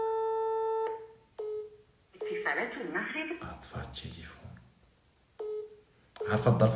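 A telephone call signal sounds as steady tones broken by pauses, and a phone is switched off; people talk between the tones.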